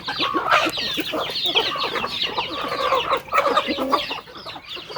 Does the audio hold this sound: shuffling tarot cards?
no